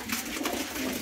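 Punjabi pigeons coo softly and continuously, several birds murmuring together at close range.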